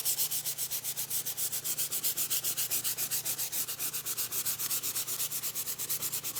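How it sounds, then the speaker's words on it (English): Wood floor is hand sanded with 120 grit paper during a wet sanding stain repair, giving rapid, even back-and-forth rubbing strokes close by in a steady rhythm, with nothing else heard. "we can hand sand that back in, help take off the dark area"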